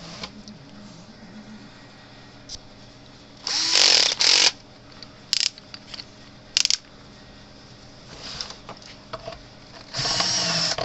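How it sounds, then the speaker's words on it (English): A drill enlarges a hole in a Cyclops Boss fence charger repair part. It runs in several short, loud bursts separated by quiet gaps with small clicks and handling noises, close up in a quiet room. "we have to drill the hole out a little bit bigger"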